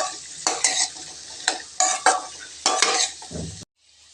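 Radish pieces are sautéed in oil in a pan, with repeated loud spatula scrapes and stirring strokes in irregular bursts over a light sizzle, close and without talk, stopping suddenly near the end.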